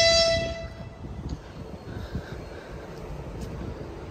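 Passenger train at a large multi-level railway station in Samara, opening with a loud sustained horn blast that fades into a steady rumbling rail and platform din.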